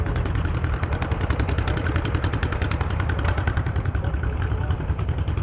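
A 1925 John Deere Model D two-cylinder tractor runs at an outdoor festival tractor show, its loud, even, rapid putting beat steady and close for the whole stretch.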